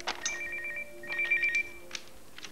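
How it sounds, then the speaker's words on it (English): A mobile phone ringtone chimes loudly in a classroom, a repeating electronic melody in two bursts with a brief gap, clear and nearby with no speech over it. "You can't have your phone on in class."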